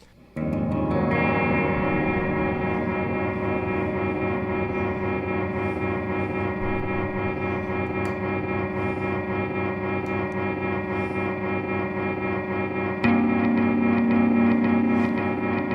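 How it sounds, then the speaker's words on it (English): Open strings on an electric guitar are strummed through a Plethora X5 pedalboard, ringing out in a loud, steady, effects-drenched drone that sustains without decay, with a new layered tone joining near the end. "I'm just going to strum the guitar open."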